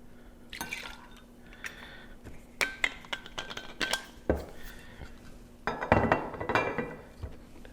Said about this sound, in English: we're gonna take our 1800 Reposado and pour about 2 ounces into our glass